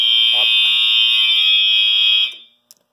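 A fire alarm panel re-alarms after its pull station is reset, giving a loud, steady electronic alarm tone for over two seconds before it cuts off abruptly. A couple of faint clicks follow.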